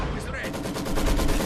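Heavy machine gun rattling in the strategy game Company of Heroes 2, a rapid steady stream of shots over battlefield noise with a voice speaking briefly underneath.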